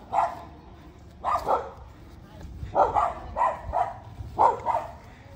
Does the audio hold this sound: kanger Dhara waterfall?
no